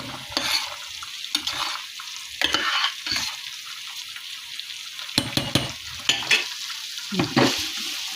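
Green peppers and other vegetables are sautéed in a pan, with repeated spatula scrapes and clatters coming in irregular bursts over a quieter frying hiss, close and fairly loud, without speech.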